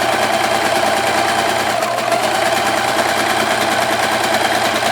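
A modest home sewing machine hums continuously and evenly, close by, as it stitches a foundation paper pieced quilted mug cozy.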